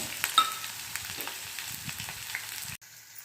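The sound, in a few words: onion frying in hot oil with cumin and mustard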